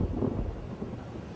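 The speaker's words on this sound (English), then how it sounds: "A thunderstorm?" A low, rolling rumble of thunder in a night-time thunderstorm over a forest, heavy and continuous at first, then easing slightly while still filling the air, with no voices.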